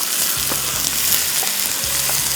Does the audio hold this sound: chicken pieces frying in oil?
yes